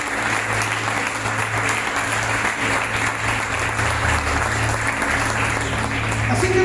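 A church congregation claps loudly and continuously throughout, a dense sustained applause with a few voices mixed in.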